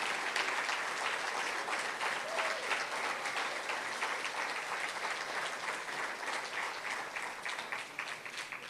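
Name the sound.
audience applause for spokesperson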